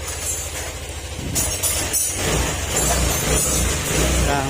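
Yamaha Aerox 155 scooter idling with a faulty exhaust divider and a worn camshaft bearing, a close, steady low rumbling drone with some metallic rattle, no voices.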